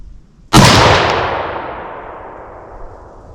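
A single loud, close firearm shot rings out while a rifle is being sighted in for firearm season, a sharp crack followed by a long decaying echo.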